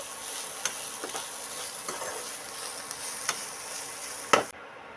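Bean fry and rice being stirred together in a large kadai for broad bean rice, a soft continuous sizzle under a few light scraping knocks of the spoon, ending in one louder scrape before the sound cuts.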